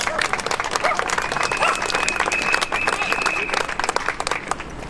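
A crowd at a peace demonstration breaks into applause, dense rapid clapping that holds steady and fairly close for several seconds. Scattered cheers or voices rise within the clapping.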